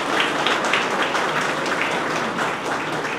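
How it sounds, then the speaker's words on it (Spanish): Steady crowd applause at a public event during a presidential visit in Puerto Plata, a dense wash of clapping held at an even level throughout without a break. "desde aquí le quiero pedir a todos un aplauso para José Ignacio"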